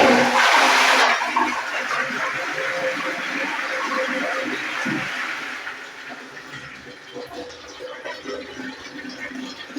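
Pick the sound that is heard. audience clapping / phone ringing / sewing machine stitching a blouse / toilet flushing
toilet flushing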